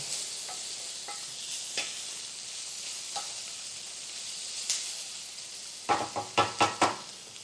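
Shakshuka stirred in a pan, a steady close sizzle with a few soft spoon scrapes, then a quick run of louder knocks and clatters against the pan near the end.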